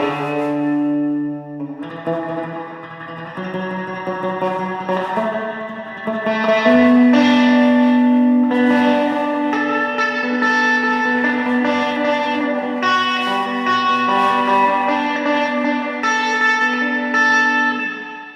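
An electric guitar rings out through a Blackstar HT 40 combo amp on its Vox-style voicing, with a slightly gritty, reverb-washed tone, playing sustained notes and chords that swell and hang.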